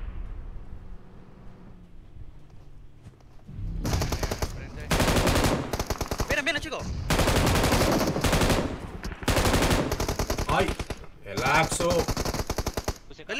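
Rapid automatic gunfire in the mobile battle royale game PUBG Mobile, loud repeated bursts in quick succession after a quieter lead-in, with faint talk under it.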